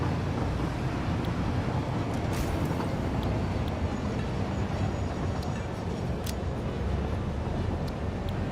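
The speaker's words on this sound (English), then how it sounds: "Why is the train still sitting here?" Train in the video game Satisfactory sits idle amid a steady, broad rumbling hum, with a few faint clicks over the drone and no talking.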